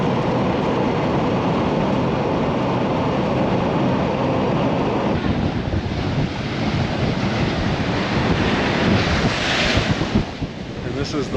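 Surf rolls onto the shore at Eagle Beach, Aruba, a constant broad wash of waves heavily mixed with wind buffeting the microphone, loud and unbroken throughout.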